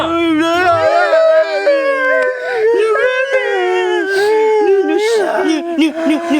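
A dog howls loudly and continuously in long, wavering rising and falling tones, with some whimpering breaks toward the end.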